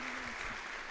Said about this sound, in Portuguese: aplauso caloroso dos presentes ao Papa Francisco, que neste momento então se retira.